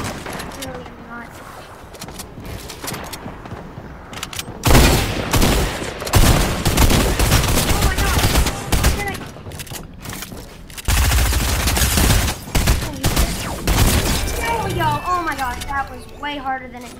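Repeated rifle shots and gunfire bursts in a Fortnite match, loud and dense in stretches, mixed with game sounds while a player talks over them.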